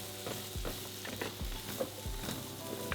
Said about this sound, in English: Getting a nice sizzle on them now.